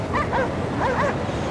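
A dog barks and yips in the icebound ship setting of the video game Cryostasis, several quick calls in succession over a rushing, wave-like ambient wash.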